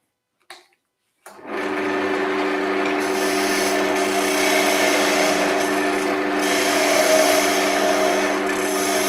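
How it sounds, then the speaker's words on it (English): Wood turning on a lathe, with a skew chisel and spindle gouge cutting a spindle down to its final point: a steady, continuous whirring hum with a scraping, rubbing cut that starts abruptly after a brief knock and runs close and loud to the end. "just using a combination of tools there, skew chisel and the spindle gouge, just try and get that down to the last little bit there"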